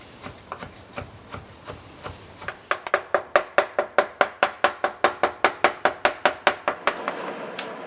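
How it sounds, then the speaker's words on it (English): A knife dices drained duck livers very finely on a board for pâté de campagne: a steady run of about two dozen crisp, close chops, sparse at first and then quickening into a brisk, even rhythm. "Drain your livers and start dicing them till they're very fine."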